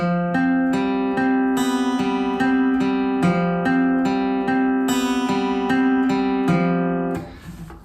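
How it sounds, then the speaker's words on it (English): Acoustic guitar fingerpicked in a steady repeating pattern, bright plucked notes ringing clearly and close, no voices, fading out at the end. "Now the picking pattern we want sounds like this"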